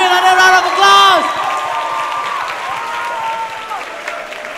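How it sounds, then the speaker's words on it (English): A crowd applauds at a 2017 prize presentation. Dense, steady clapping runs throughout, with a few cheers and voices rising over it near the start. "give him another round of applause"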